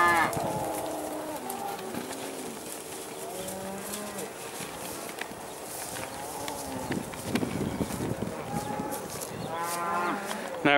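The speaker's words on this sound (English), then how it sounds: "if you look up there, you can just see the cows looking over the fence. They're obviously upset not to be let out." Cattle mooing behind a fence on a farm, many overlapping low moos and calls at varying distances, with shuffling hooves and movement throughout.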